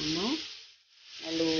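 Potatoes frying in a pan over high heat give a steady close sizzle that swells, dips almost to nothing midway, then returns just as strongly.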